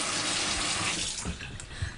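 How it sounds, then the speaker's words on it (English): Water running from a household faucet, a steady full hiss and splash that continues unbroken and fairly loud with no talking. "Turning off a running faucet is the easiest way to conserve water."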